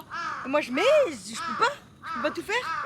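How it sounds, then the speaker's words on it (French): Crows calling in Tokyo, Japan, their rough caws mixed into and partly masked by a woman's close French speech that runs through the whole moment. "J'aime trop le bruit des corbeaux,"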